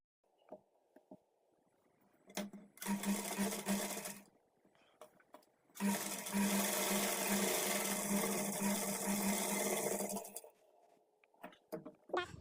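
A sewing machine stitches darts on a blouse in two clear runs, a short burst followed by a longer steady whir, with quiet handling sounds between and no talking.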